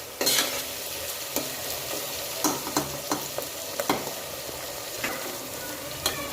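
Chopped onions sauté in a hot pan, with a steady sizzle under repeated sharp scrapes and clinks as a spoon stirs them every second or so.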